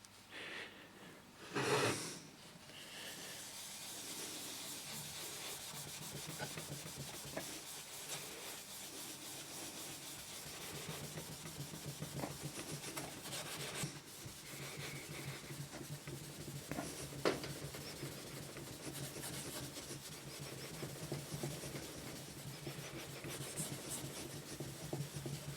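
An abrasive is rubbed back and forth over lacquered brass door furniture to strip the old coating, making a faint, continuous scratchy scrubbing close by. One brief louder scuff stands out near the start.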